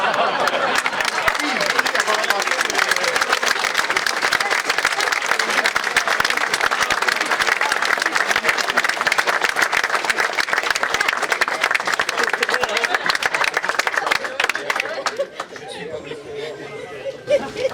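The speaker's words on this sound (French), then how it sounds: "je propose qu'on applaudisse" Loud, sustained applause and clapping from an audience at a retirement farewell at Technord, mixed with crowd chatter, continuing steadily before easing off into murmuring at the end.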